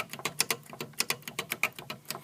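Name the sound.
noisy keys clacking on CAT synthesizer with hardened bushings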